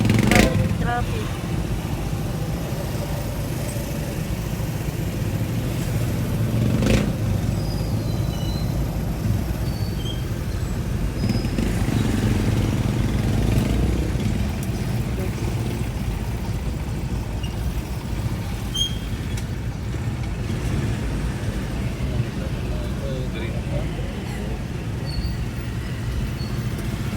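Heavy street traffic of motorcycles and cars rumbles and drones continuously nearby, engines rising and falling, while a person talks over the noise throughout.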